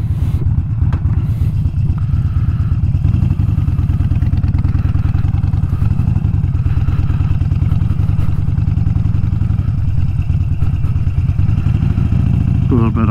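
A 2008 Harley-Davidson Sportster motorcycle is ridden with its engine close and loud throughout, a steady low throbbing rumble that rises and falls slightly as it moves.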